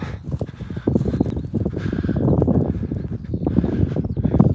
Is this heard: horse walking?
yes